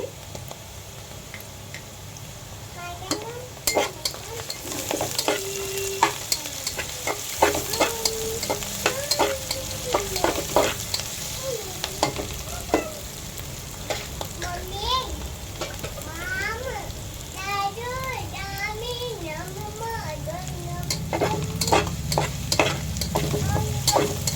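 Ginger garlic paste fries and sizzles in a pan for biryani while a spoon scrapes and stirs it in frequent clattering strokes; a voice and other voices chatter faintly in the background throughout.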